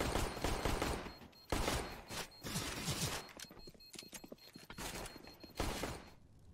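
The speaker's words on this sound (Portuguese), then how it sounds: "Muita Glock atirando, velho." Rapid Glock pistol fire in Counter-Strike: GO during a pro match, sharp repeated shots in uneven bursts with short gaps, crisp and close, mixed with footsteps and game clatter.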